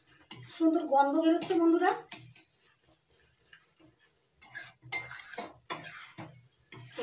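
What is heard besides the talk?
mixing mashed bean (shim) mixture in a pan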